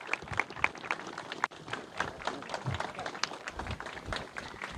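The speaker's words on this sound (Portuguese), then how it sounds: "Aplausos ao guerreiro Wesley" Mourners applaud at a funeral procession for a military police corporal as the coffin is carried. The clapping is scattered and fairly faint, in uneven bursts with outdoor crowd noise and no clear voices.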